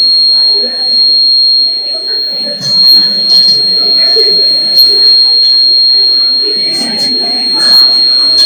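A steady high-pitched electronic buzzer tone from a water tank level alarm drones continuously as the tank fills, with people talking underneath it at an education fair.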